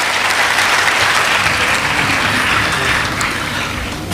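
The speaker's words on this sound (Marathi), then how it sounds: "सगळ्यांनी जिल्हाधिकारी महोदयांचं आपण टाळ्या वाजवून स्वागत करूयात." An audience claps loudly and continuously to welcome a district collector at a lecture, a dense wash of applause that fades slightly toward the end.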